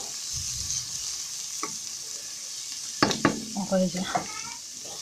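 A meatless bolognese sauce with basil sizzles quietly while a spoon stirs it, with a few close clinks and scrapes near the end and a brief spoken phrase.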